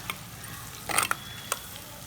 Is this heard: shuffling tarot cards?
no